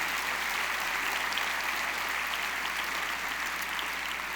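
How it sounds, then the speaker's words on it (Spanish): A church congregation applauds, a dense, steady wash of many hands clapping at once that fills the room evenly throughout without a break. "dale un fuerte aplauso a Dios."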